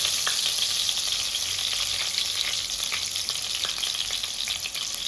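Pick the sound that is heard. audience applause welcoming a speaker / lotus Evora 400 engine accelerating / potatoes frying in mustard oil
potatoes frying in mustard oil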